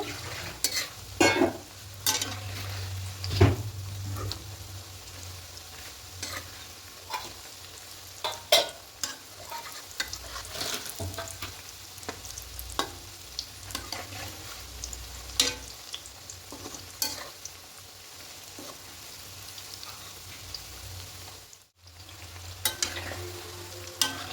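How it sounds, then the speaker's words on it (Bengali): A spatula stirs and turns coconut puli pitha frying in a wok of hot oil, with repeated scraping knocks over a steady sizzle, a brief pause near the end, and no voices. "আলতো করে খুন্তি করে এবার নেড়ে দেবো পুরোপুরি একদম ভাজা হয়ে যাচ্ছে"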